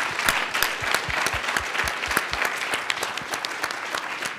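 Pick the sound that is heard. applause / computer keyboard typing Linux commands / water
applause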